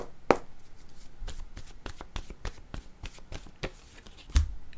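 Tarot cards being shuffled by hand in a quick series of papery riffles and soft slaps, close and fairly quiet, with a sharper snap near the start and a thump near the end.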